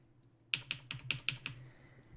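Quick keystrokes on a computer keyboard: about seven crisp clicks tapped in a short, uneven burst up close, preceded by a brief quiet moment, with no voices.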